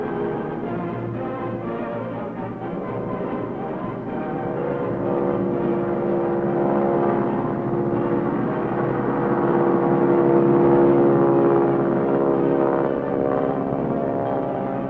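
Crop-dusting airplane flying to spray insecticide, a steady droning engine hum that holds at a moderate level and swells slightly toward the middle, continuous with no voices.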